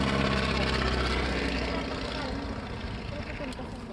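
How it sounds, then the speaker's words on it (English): An antique biplane flies past at the Shoreham Airshow with a loud, steady propeller-engine drone that slowly fades as it moves away. A voice talks over it. "Antique biplane flying."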